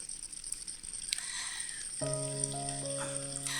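Stuffed squid tubes sizzling in hot oil in a wok, a soft steady frying hiss with light crackles, joined midway by a faint tonal hum.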